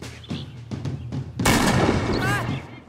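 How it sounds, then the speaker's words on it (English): A gunshot fired into the air in the game As Dusk Falls: a sharp, loud crack that cuts through a quieter scene and then decays over a broad rushing echo, with a voice speaking briefly around it. "He shot in the air, he ain't shoot at me."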